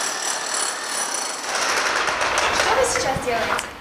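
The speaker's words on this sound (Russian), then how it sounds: "Беру перфоратор, чтобы провести свет в подвал" A rotary hammer drills into a brick wall at a building site to run wiring for basement lighting, giving a loud, continuous rapid hammering that grows stronger partway through and stays close.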